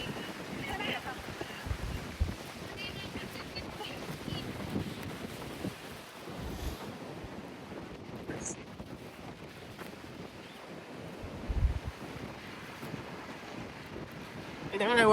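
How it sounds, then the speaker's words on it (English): Strong wind buffets the microphone beside the sea near San Sebastian, gusting in irregular bursts over a low wash of waves, with a voice speaking faintly at times. "The wind is blowing hard."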